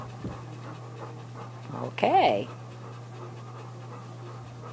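A pet dog pants softly and steadily indoors under a low constant hum, while a person says a single short word midway.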